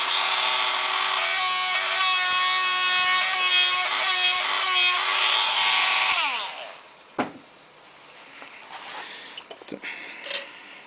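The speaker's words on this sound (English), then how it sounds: "it looks like I need to cut little bit off middle part of the gap" A piston ring gap is filed by hand, with steady back-and-forth rasping strokes for about six seconds, then quieter handling and small clicks.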